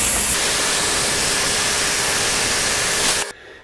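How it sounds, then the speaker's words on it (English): A brake bleeder pulls coolant out of the engine of a 1995-2008 Ford Ranger 3.0L, producing a steady, loud, close hiss of suction that holds evenly for about three seconds and then cuts off abruptly. "I'm just using a brake bleeder."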